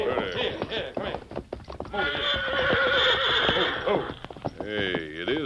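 A horse gives a loud, quavering neigh in the middle, with hooves clopping before it and a shorter whinny near the end.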